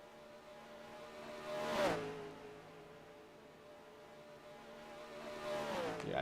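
Race cars in a Carvana Cup Series endurance qualifying session of a racing video game sweep past in two distinct flybys, a loud pitch-dropping whoosh near the start and a second one swelling at the end, over a steady engine drone.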